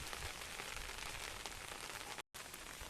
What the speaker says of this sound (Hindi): प्रबल रु अति प्रबल वर्षा होची।